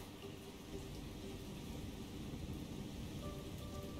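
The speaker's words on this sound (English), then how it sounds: "Nice rainy day." Steady rain in the naval warfare game War on the Sea, a continuous dense hiss with a low rumbling undertone, faint and even throughout, no voices.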